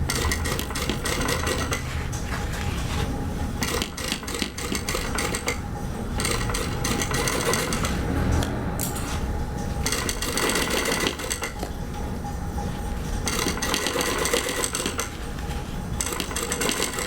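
A sewing machine stitches a curved seam through pinned fabric, a steady close mechanical whirr running almost the whole time with brief changes in pace and no talking.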